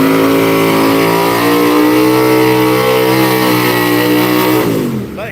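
Hemi-powered drag race cars at Orlando Speed World roar loudly and steadily at full throttle, a dense harmonic engine wail that drops off sharply at the end, with no voices.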